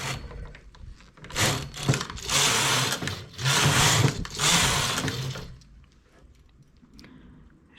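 A knitting machine carriage pulls a row of thick yarn across its needle bed, giving several loud, rasping mechanical sweeps with short pauses between them, then a quieter tail.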